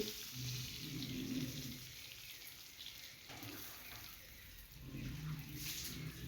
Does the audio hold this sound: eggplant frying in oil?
yes